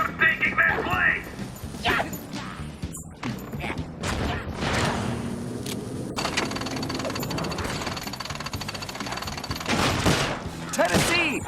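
Rapid gunfire from guards in the Sly Cooper video game, loud and continuous bursts with crashes and mechanical clatter, mixed with game music and character voices.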